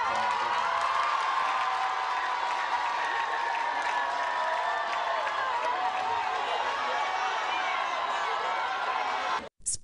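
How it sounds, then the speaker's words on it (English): A large crowd at a graduation for students cheers and applauds in a sustained, dense roar of clapping and shouting that holds steady for the whole stretch before cutting off abruptly at the end. "attracted jubilation from the crowd"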